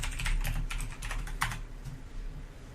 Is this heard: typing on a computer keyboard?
yes